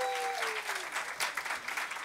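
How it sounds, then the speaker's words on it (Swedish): An audience claps at a web awards gala intro, a dense, steady round of applause that carries on for the whole stretch with no break. "Då ska det vara applåd då."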